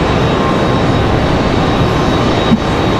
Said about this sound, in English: But this 757 Delta is Delta 3245, again from Atlanta, Georgia.